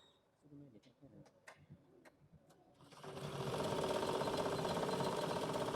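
An embroidery machine stitching a pair of pants, starting with a few button clicks and taps before a steady, loud, rapid mechanical whirring chatter that runs continuously to the end, close to the listener.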